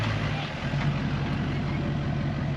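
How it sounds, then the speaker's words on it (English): A diesel pickup truck engine idles steadily with a deep, even rumble, close and continuous, while someone talks over it. "See, that doesn't sound like a normal diesel, does it?"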